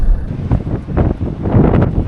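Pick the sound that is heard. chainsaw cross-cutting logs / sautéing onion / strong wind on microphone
strong wind on microphone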